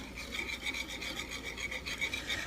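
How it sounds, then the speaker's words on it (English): A whisk scrapes steadily around a bowl, blending chicken casserole ingredients in a continuous rapid rasping rhythm, close and fairly quiet, with no talking. "I'm just going to use a whisk, because I think that it would go a lot smoother and a lot easier"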